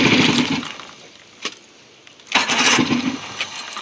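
An 85 hp Johnson motor is cranked: a loud mechanical churning burst, a brief pause with a short knock, then a second, longer cranking run close by.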